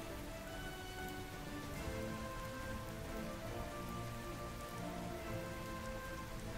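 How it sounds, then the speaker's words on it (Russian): Rain falls steadily in the video game Holy Potatoes, making a soft, even patter on surfaces. It sounds faint and constant throughout, with no talking. "Воу, дождь пошел."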